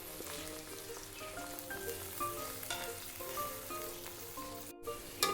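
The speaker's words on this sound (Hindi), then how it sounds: "भिंडी को हमने इसको फ्राई कर लेना है अच्छे से" Okra (bhindi) frying in hot ghee, a dense rain-like hiss and crackle that holds steady and close with scattered pops, then one very short dropout near the end.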